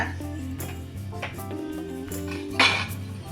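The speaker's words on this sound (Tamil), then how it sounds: "இதை மிக்ஸ் பண்ணி விட்டு நல்லா ஆற வச்சுடுங்க" A spoon stirs roasted rava (semolina) with asafoetida and coriander leaves in a metal pan for rava idli, giving close, scraping clinks and taps in an uneven rhythm, with one sharper knock near the end.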